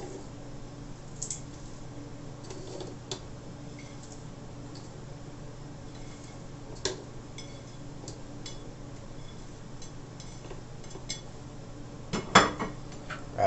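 Scallion and garlic being added to a container while making Jamaican jerk sauce, soft scattered clinks and taps of utensils against the dish with a few sharper knocks, quiet and close.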